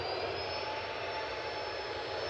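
Jet airliner departing Manchester Airport, a steady broadband engine roar with a faint high whine, constant and moderately distant, no talk.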